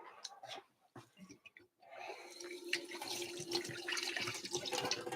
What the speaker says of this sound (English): Now I just rinse off the cups